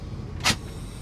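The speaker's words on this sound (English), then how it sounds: "Air brakes." A short burst of air-brake hiss from a medium duty dump truck, rising sharply for about a tenth of a second over a steady low engine rumble, then fading back to the idling drone.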